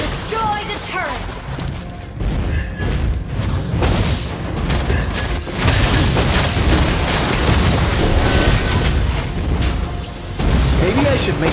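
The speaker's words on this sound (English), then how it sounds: "Your team destroyed a turret!" Turret-destroyed explosion in Mobile Legends: Bang Bang, with loud dense booming blasts and crackling bursts running continuously under busy game music and effects, with a voice announcing over it.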